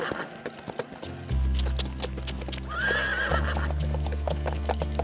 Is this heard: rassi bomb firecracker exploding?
no